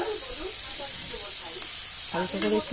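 Semolina (suji) frying in a pan with ginger and garlic, a steady bright sizzle and hiss, close and fairly loud, with a brief stir near the end and no talk.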